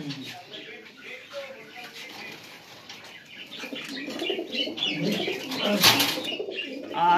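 Fulshira pigeons coo in soft, low repeated calls, with occasional wing flaps and chirps from other birds nearby, under a steady murmur of someone talking throughout.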